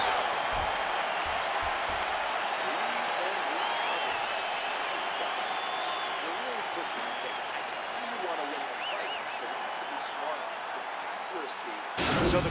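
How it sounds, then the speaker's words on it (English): UFC arena crowd applauding and cheering after a round with a knockdown punch, a dense continuous wash of clapping and voices heard at a distance, with a commentator talking over it. "So the crowd voicing its appreciation after that round."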